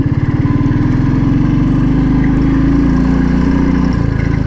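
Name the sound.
Royal Enfield Thunderbird 350 motorcycle engine while riding off-road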